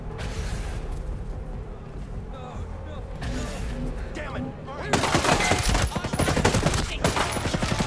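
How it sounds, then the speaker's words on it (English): Heavy bursts of gunfire in the tactical shooter Ghost Recon Breakpoint, a dense fusillade that erupts loudly midway and keeps rattling to the end over a steady game backdrop, with voices talking underneath. "Got a sniper ready to shoot."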